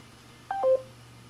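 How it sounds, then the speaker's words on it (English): An Amazon Echo Connect plays a short call end sound: two quick electronic tones stepping down in pitch, clean and fairly faint over a steady low hum. "She just made a call end sound."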